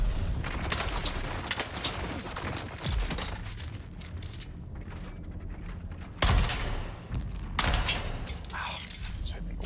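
A grenade in the game Dune: Awakening bursts against a wall amid gunfire, with loud thumping impacts and a sharp blast midway, while a voice talks over the action.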